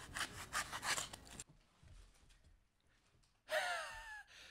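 Cutting and scraping foam material for the eyes of a handmade mascot head, heard as brisk rhythmic sawing and rubbing strokes close by, a quieter pause, then a sharp scraping burst near the end.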